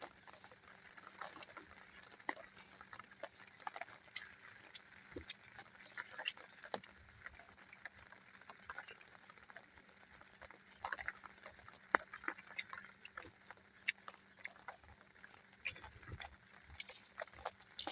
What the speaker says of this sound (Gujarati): વરસાદ પણ બહુ આવવા માંડ્યો છે